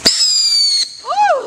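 Fourth of July fireworks: a sharp bang followed by a long, bright whistling tone, then a rising and falling squealing whistle, close and loud with no voices.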